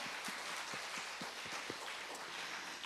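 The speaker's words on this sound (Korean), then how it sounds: "우리 주님께 영광의 박수 한번 돌리겠습니다." A church congregation at a Sunday evening worship service gives a faint, distant round of applause, a soft continuous patter of many hands with a few sharper individual claps.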